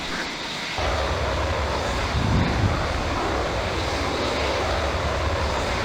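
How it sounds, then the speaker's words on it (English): An F-16A MLU jet in the Falcon 4 Allied Force flight sim rolls for takeoff on runway 29 at Amendola. After a brief quiet start, a loud, steady broadband engine roar holds throughout with no talk. "let's go for the takeoff"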